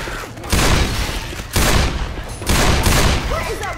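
Bursts of automatic gunfire in the zombie shooter Left 4 Dead 2, three loud sustained volleys separated by short gaps, close and dominant.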